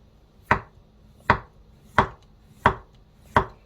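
A knife slices Korean zucchini thinly on a cutting board for chive pancakes: five crisp, evenly spaced chops about 0.7 seconds apart, close and clear with no talking.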